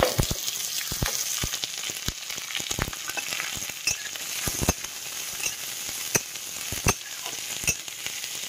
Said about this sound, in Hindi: ये देखिए लहसुन थोड़ा सा पक गया, अब इसमें प्याज डाल रहे।